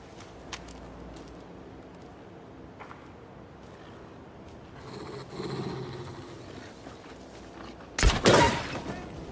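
One loud gunshot, a shotgun in a shooter video game, bursts near the end after quieter clicks and shuffling movement sounds, with a short ringing tail.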